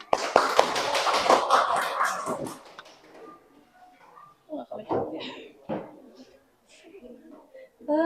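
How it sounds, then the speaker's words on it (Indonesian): A classroom gives a group of presenting students a round of applause: about two seconds of dense, close clapping, followed by scattered talk and small knocks in the room. "Berikan tepuk tangan."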